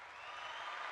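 A short burst of applause for a game's winner, dense and steady, a small crowd clapping at moderate loudness.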